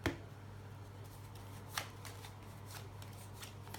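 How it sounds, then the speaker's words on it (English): A deck of playing cards is riffled and shuffled during a close-up card magic routine, a soft, close, continuous papery rustle with a few brighter snaps. "we'll give the cards a little bit of a shuffle to lose the card in there"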